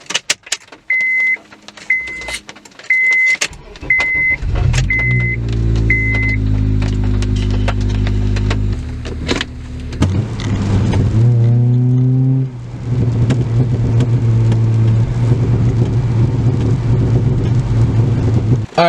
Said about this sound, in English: let's cold start the Accord